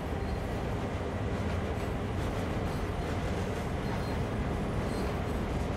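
A freight train rolls slowly on the Sand Patch Grade in Train Sim World 2, giving a continuous, steady rail rumble and clatter at even loudness with no talk.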